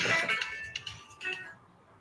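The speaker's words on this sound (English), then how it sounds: "That's my phone." A mobile phone ringtone sounds briefly in a home garage during a basic car service, a bright melodic electronic tone lasting about a second and a half before it stops.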